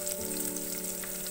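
Onions frying in lightly heated oil while making methi matar malai, a steady close sizzle and crackle running the whole short moment with no talk.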